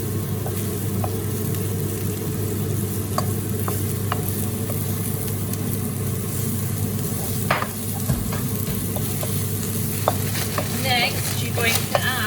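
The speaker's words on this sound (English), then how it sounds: "you need to squeeze the 2 garlic cloves into the pan. Nice. All that garlic in the pan." Squeezed garlic cloves fry in a pan with a steady close sizzle, broken by occasional light scrapes and utensil clicks, with no talk.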